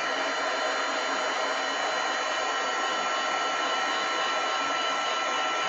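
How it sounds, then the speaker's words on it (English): A craft heat tool blows a loud, steady whoosh while heat setting an embellishment. The sound holds constant and close, with no voices. "I am going to heat set this, so I will be a little bit quiet, but my heat tool will be a little bit loud."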